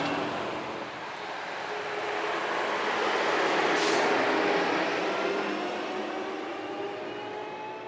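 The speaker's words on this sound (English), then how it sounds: "there are a lot of trucks, both people's pickup trucks and like large semi-trucks, rumbling through town here, through the town square." Heavy trucks, both pickups and large semi-trucks, rumble steadily through a small-town square in Berrien County, Georgia, a loud continuous engine and tire roar that swells in the middle and stays close throughout, with no talk.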